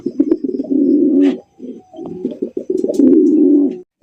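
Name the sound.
Indian Bombay pigeons cooing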